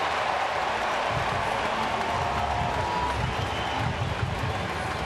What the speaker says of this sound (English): Just the way they're cheering, the way they're roaring.